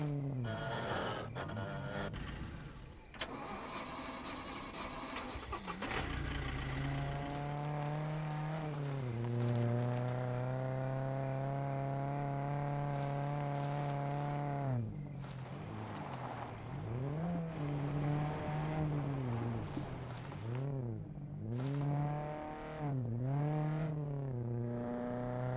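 Car engine in the video game SCUM, a rear-wheel-drive car revving and accelerating through repeated rising and falling gear pulls, loud and close, with occasional tire squeal and no talk.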